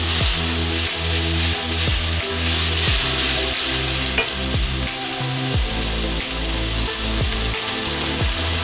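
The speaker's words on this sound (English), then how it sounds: "We're gonna saute along with the onion." Cashew nuts sautéing with onion in a pan for Delhi-style chicken changezi, a steady loud sizzle with regular scraping stir strokes roughly every half second, close and continuous with no talking.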